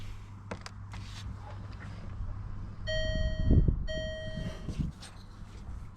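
Dashboard chimes ring out in a Range Rover Evoque with ABS faults as the ignition is switched on, two clear electronic tones about a second apart over low cabin hum and faint handling noises.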